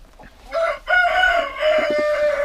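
Chickens clucking and crowing up close, a few drawn-out calls back to back with no talking.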